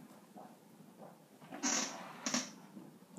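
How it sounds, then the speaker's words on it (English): A cat retches indoors, giving two short heaving bursts a moment apart over a quiet room. "cat's throwing up."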